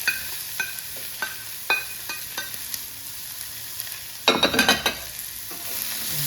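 Onions and peppers sizzling in a hot pan, a steady frying hiss with scattered stirring clacks, then a louder burst of crackling toward the end as the vegetables are moved around.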